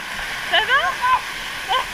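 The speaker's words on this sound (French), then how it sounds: "Voilà, méga cascade." Water rushes steadily from an outdoor waterfall at the Aqualagon water park while excited voices call out over the pouring water.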